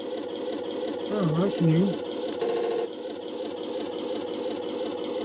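Electronic machine-gun sound effect from a Heng Long StuG III RC tank, a rapid buzzing rattle over the toy's steady hum, close and fairly loud, with someone briefly talking over it.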